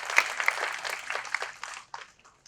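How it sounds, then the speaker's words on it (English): An auditorium audience at a startup idea-pitch event claps for a presenting team: a dense patter of hand claps that thins out and fades toward the end. "Can we please have a round of applause for Team Nutshell?"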